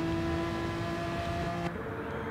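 A Pagani race car in a racing video game at Catalunya drones with a steady, sustained engine note at high revs that drops slightly in pitch near the end, with no talk over it.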